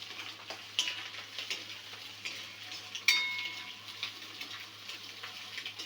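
Ingredients for Chinese fried rice frying and being stirred in a pan, with a steady soft sizzle, intermittent scraping clicks of the utensil, and a sharper metallic clink near the middle, fairly quiet and without talk.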